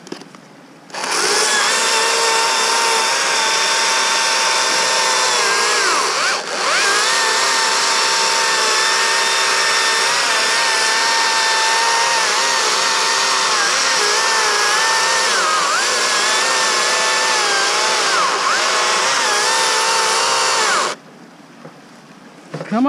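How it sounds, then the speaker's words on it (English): A STIHL MSA 160 T battery chainsaw cutting small limbs gives off a loud, close, continuous high whine for about twenty seconds, its pitch wavering slightly as the chain bites. "Come on, little saw. Come on."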